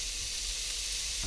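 Rump steaks hit a smoking-hot pan in a camper van kitchen, making a short burst of soft, steady sizzling hiss heard close by with no voices.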